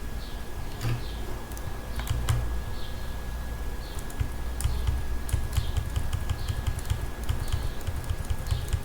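Computer keyboard keys are pressed in an irregular run of light, close clicks over a steady background hum, with no one talking.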